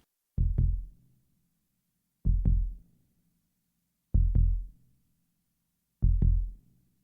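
Heartbeat sound effect, four deep, muffled lub-dub double thumps spaced about two seconds apart, each close and soft, with silence between beats.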